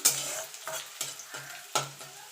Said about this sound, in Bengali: পাঁচ ছ কোয়া রসুন কুচিয়ে রেখেছিলাম সেটা দিয়ে দেবো